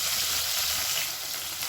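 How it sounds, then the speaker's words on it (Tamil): Steady crackling sizzle of mustard seeds and fennel seeds spluttering in hot oil, close and continuous with no voices. "கடுகு சோம்பெல்லாம் நல்லா பொரியும்"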